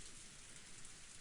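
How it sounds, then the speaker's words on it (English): Heavy rain pours down steadily in Umineko, a dense, even hiss of downpour with no breaks, heard alone and fairly close. "the peaceful sound that had put her to sleep was actually the rain"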